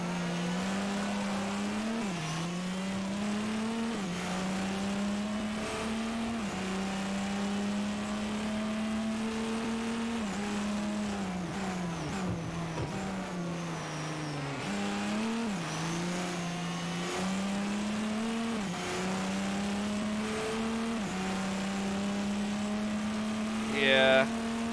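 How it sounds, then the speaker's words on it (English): A race car engine in the racing game Forza Motorsport 4 drones steadily, its pitch rising and dipping through gear changes and throttle shifts, with faint voices talking over it. "you've got the world's most unsurprising engine sound"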